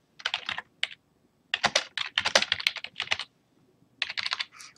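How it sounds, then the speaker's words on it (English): Quick bursts of typing on a computer keyboard, close and clear, with rapid clicking keystrokes in several short runs separated by brief pauses. "I can actually type my answer right into here."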